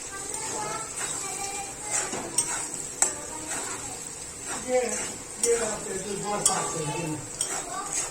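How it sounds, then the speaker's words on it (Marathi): Potatoes sauté in a pan for sabudana khichdi with a light sizzle under repeated spatula scrapes and clicks against the metal, while someone talks over the cooking. "आता याला थोडंसं परतवून घेऊया अजून।"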